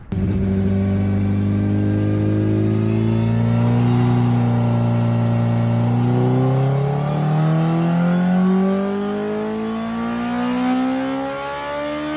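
A 2017 Honda CBR1000RR SP sportbike with an ECU remap rides off, its engine revving up through rising gears, loud and close at first, then drawing slightly away, with no speech.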